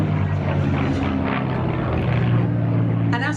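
A Spitfire warbird flies past at an airshow in Wanaka, New Zealand, its propeller engine a loud continuous rumbling drone with a commentator's voice over it.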